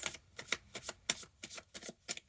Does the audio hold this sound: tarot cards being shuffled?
yes